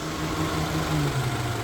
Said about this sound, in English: engine's back together and going. It actually runs.